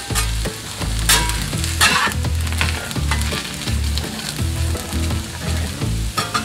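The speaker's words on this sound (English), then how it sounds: "putting a little oil in there and adding our mushrooms now" Sliced white mushrooms sauté in oil in a pan, loud bubbling sizzle with repeated stirring knocks and scrapes in an uneven rhythm, no speech.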